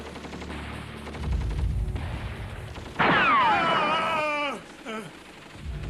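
Heavy light machine gun fire in a battle dramatization about Albert Ekka, Param Veer Chakra awardee: dull rumbling booms under a strained groaning voice, then a loud burst of sharp shots with trailing echoes, fading and returning.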